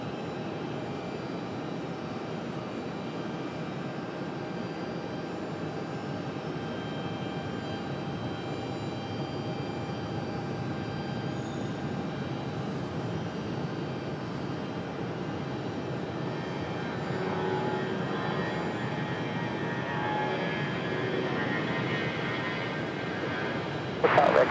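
Steady broadband engine roar from a jet airliner departing Raleigh-Durham airport, a continuous distant rumble that swells slightly toward the end, with faint radio chatter in the background.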